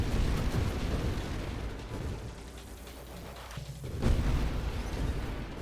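Grenade explosions in the space shooter Nova Drift, a steady rumbling wash of blasts and pops under game music, with a heavier boom near the end.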